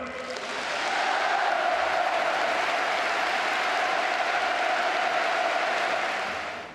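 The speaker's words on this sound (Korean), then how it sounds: "우리 모두 문재인 대통령에게 열광적인 박수와 열렬한 환호를" A large crowd in Pyongyang gives enthusiastic applause and cheering for President Moon Jae-in, a roaring, sustained wash of clapping with voices mixed in that swells quickly, holds loud and steady, then eases off.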